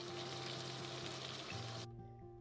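Baijiu liquor hits a hot pan of browning pork ribs with ginger, scallion and garlic, giving a loud steady broadband sizzle that cuts off abruptly near the end, leaving a low hum.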